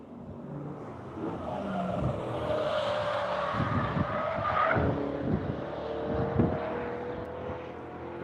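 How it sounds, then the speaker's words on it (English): Corvette race car sliding through turn 1 on a track, its engine roaring near and loud while tires squeal and skid through the corner, with the revs rising and falling across the slide. "Buckley Barnes Corvette sliding it through turn 1"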